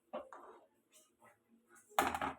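Jowar flour mixture being stirred in a metal pot, a few scattered soft scrapes and taps of a utensil against the pot followed by one louder clanking knock near the end, close and sparse, with no voices.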